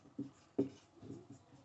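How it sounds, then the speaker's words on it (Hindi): Chalk or marker writing on a board in a classroom, a few short faint scratchy strokes spaced across a brief moment, with no talking. "मैं यहां लिख देता हूं"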